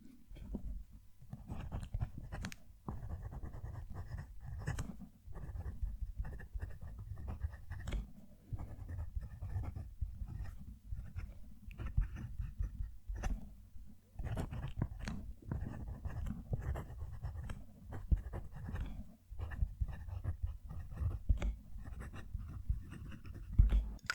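A P136 fountain pen nib writing on paper, a close, quiet, continuous scratchy whisper broken by short strokes and pauses, fairly even in rhythm throughout.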